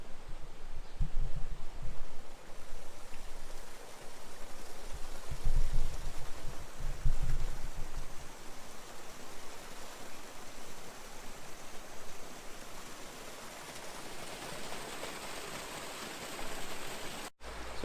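A Lake District river flows with a steady, broad rushing hiss, joined by a few low buffeting thumps early on and then continuing evenly throughout.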